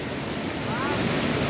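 A swollen river rushes past, a loud, steady broadband roar of flowing water close by with no breaks.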